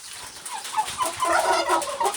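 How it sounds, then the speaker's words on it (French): A domestic turkey on a small farm gobbles in a few repeated bursts, close and fairly loud, with no talking. "Et sinon on a l'autre dinde ici"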